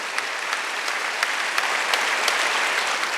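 A congregation at a Wednesday service in a Korean church claps in response to the pastor, producing a dense, even roar of hand claps with a few sharp individual claps standing out above the steady mass.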